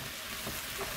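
Soup vegetables fry gently in a pot with a soft continuous sizzle, while faint scraping of stirring runs under the hiss. Nobody speaks.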